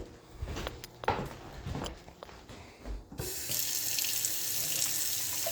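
After a few knocks and shuffling steps, a faucet in a house with a failing well is opened and water gushes out in a steady, close rush that holds to the end.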